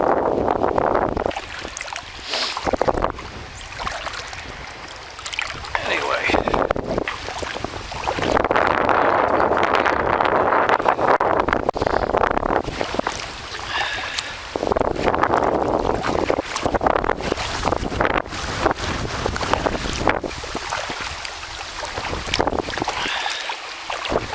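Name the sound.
wind blowing during a kayak ride on a lake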